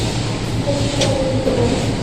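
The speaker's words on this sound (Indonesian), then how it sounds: "ini rangkaian kereta api Banyu Biru sudah masuk jalur 1" The Banyubiru economy-class passenger train pulls into a station platform on the Semarang–Solo line, rumbling steadily nearby, with a faint squeal of wheels or brakes cutting through the low continuous rolling noise.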